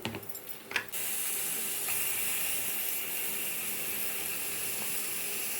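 Turmeric-coated chicken pieces hit masala in hot oil for a restaurant-style chicken gravy. After a few brief clatters, a steady, close, bright sizzling hiss sets in and holds at an even level to the end.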